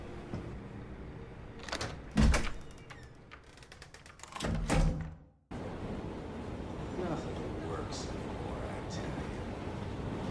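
In the video game SOMA, a front door opens with mechanical sliding whirs and two heavy clunks, followed by a sudden cut to a steady low ambient hum.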